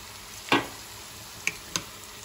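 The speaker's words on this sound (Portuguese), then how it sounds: "Tenho que mexer logo para não deixar queimar a nossa pimenta." Ground pepper frying in a pan with bay leaves and peppers sizzles faintly and steadily, broken by three short, sharp stirring scrapes, one stronger scrape followed by two lighter ones.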